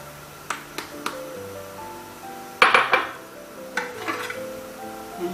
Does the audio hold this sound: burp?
no